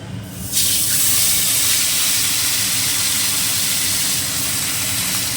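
Marinated hilsa pieces go into hot oil already spiced with radhuni for doi ilish, setting off a sudden loud, steady hissing sizzle that stays close and continuous to the end.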